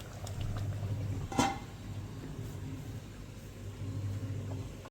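Steady low rumbling simmer of crab curry bubbling in a covered pan on the stove, with a brief sharp clatter partway through and no voices.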